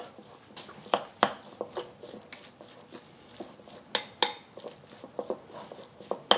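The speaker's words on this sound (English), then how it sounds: "And I'm gonna stir this up." Ingredients stirred in hot oil in a saucepan, heard as scattered light clinks and taps of a utensil against the pot over a quiet background, with a few sharper knocks.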